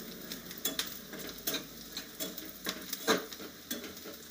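Onion sautés in a pan for an egg curry, a low steady sizzle broken by repeated scraping stirs and utensil taps at an uneven rhythm, close by with no talk.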